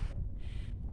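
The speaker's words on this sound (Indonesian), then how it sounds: "Anginnya udah angin madep ini mah." Gusty wind buffets a microphone during a night hike up Mount Burangrang, a low, rumbling roar that swells and falls over one second.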